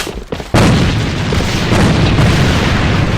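A sudden heavy boom of a grenade blast in the game Alliance of Valiant Arms bursts in and rumbles on with sustained low-end roar, loud and close.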